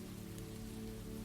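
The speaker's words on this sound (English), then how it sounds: "the rain had been falling since morning" Steady rain falling on a surface on a grey evening, a dense, even patter without pause and with no voices over it.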